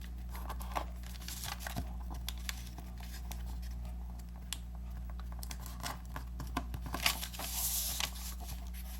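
Origami paper being folded into a hat decoration gives soft crinkles, light taps and creases scattered through a steady low background hum.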